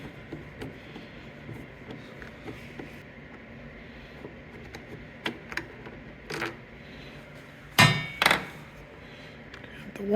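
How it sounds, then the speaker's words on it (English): A T30 Torx bit works a side bolt loose on a Rough Country cargo tailgate fitted to a 2022 Can-Am Maverick Trail UTV. Faint scattered ticks give way to two sharp, close metallic clanks near the end. "So first step is to remove each of these side bolts."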